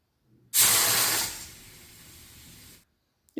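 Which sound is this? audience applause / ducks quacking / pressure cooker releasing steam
pressure cooker releasing steam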